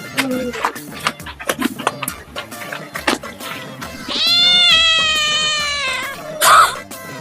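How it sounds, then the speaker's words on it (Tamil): A kitten that has fallen into a pond gives drawn-out, loud meows, one long cry followed by a shorter one, after a stretch of clicks and scattered noises. "பூனைக்குட்டி தண்ணியில விழுந்துட்டு இருக்கு பாரு"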